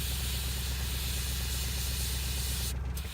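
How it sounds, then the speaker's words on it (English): An airbrush hisses in a steady, soft, continuous spray while painting an Ogryn bust, with a brief break in the airflow just before it ends. "this is obviously airbrushing"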